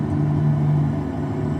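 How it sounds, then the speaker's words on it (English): Steady low rumble of a truck engine idling or cruising on a street in American Truck Simulator, loud and constant with a droning hum and no voices. "This engine sounds quite quiet on the street, to be fair."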